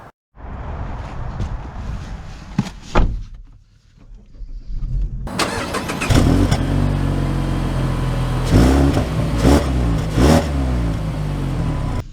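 2023 Mazda CX-30 Premium AWD starting off: after a brief quiet, an engine rises and pulls away with a steady loud drone and a few swells of acceleration, heard close from inside the car.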